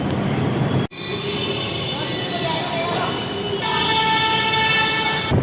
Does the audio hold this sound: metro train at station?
yes